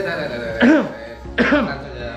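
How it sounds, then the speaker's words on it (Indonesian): Two short, sharp coughs a moment apart, close and fairly loud, over a quiet background. "batuk gue tadi"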